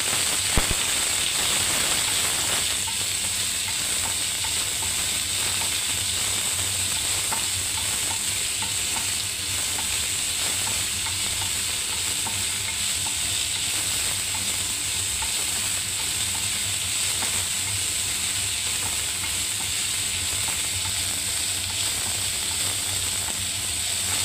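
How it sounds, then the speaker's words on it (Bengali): Sliced onion fries in hot oil while it is stirred, making a steady, close sizzle and hiss that carries on without pause for the whole span, with light scraping under it and no voices. "এর মধ্যে আমি পেঁয়াজটাকে ছেড়ে দিচ্ছি তেলের মধ্যে। এবার আমি একটু ভাজতে থাকবো পেঁয়াজটা লাল লাল করে।"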